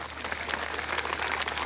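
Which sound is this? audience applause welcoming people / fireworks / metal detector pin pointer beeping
audience applause welcoming people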